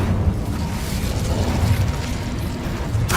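An Incendio fire spell cast in Hogwarts Legacy, a loud, continuous roaring, crackling blast of flame that rumbles without a break for several seconds, heard alone.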